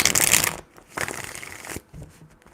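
Tarot cards shuffled in a burst of dense riffling, then quieter shuffling pauses and resumes in short bursts, close and fairly loud with no talking.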